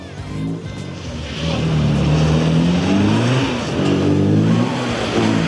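Classic Mini at a Metro Mini show, revving hard with the handbrake on as its front wheels spin through a tight figure-of-eight, engine note rising and falling steadily and loudly throughout, with no talking.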